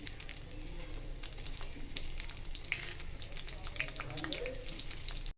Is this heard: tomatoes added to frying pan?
yes